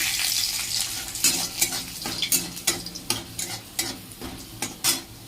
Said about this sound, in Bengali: এবার শাকটা ভাজবো রসুন আর কাঁচা লঙ্কা দিয়ে